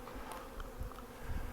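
Honeybees hum close and continuous around a hive while honey supers are pulled, with robbing bees adding a dense, steady buzz and no voices.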